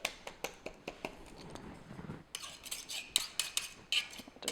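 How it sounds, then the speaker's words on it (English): Pastry blender cutting butter into flour in a mixing bowl for homemade doughnut dough, making a quick series of soft metallic clicks and scrapes against the bowl, close and fairly quiet, with no talking. "So that's with your pastry blender, or you can just move it through your fingertips, like so."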